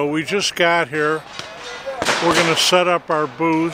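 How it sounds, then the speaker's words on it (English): Gunfire at a cowboy action shooting event, a few sharp distant pops and bangs in the background while someone speaks close up. "you can hear the gunshots in the background."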